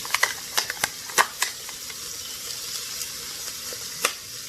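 Red and green peppers with yellow onions sizzling in a pan as thyme sprigs are added, a steady close hiss broken by several sharp clicks and taps from a utensil.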